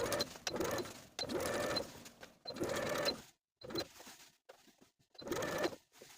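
Sewing machine stitching a seam allowance to a lining around a pinafore dress armhole, several short bursts of close, rapid whirring separated by brief pauses.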